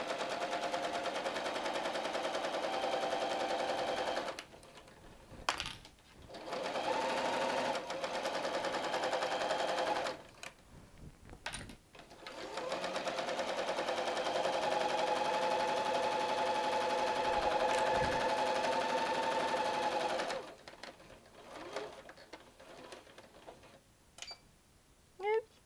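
A sewing machine stitches seams on fabric for an envelope pillow, its motor buzzing in several steady bursts of a few seconds each, separated by short pauses, close and fairly loud with no talking.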